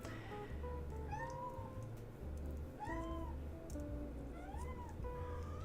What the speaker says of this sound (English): My cat is cheering you on.